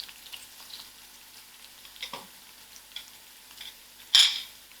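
Cumin seeds and two dry chillies frying in oil, a faint crackling sizzle with scattered small pops and a sharper spit near the end.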